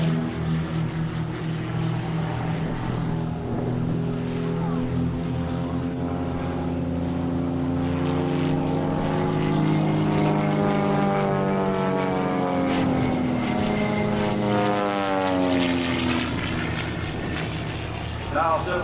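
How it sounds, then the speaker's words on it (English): Two aerobatic aircraft perform at a naval air station airshow, their propeller engine drone rising and falling in pitch as they climb and maneuver, steady and fairly loud, with an announcer speaking over it. "the two aircraft go to the vertical for individual hammerheads to a crossbox rejoin"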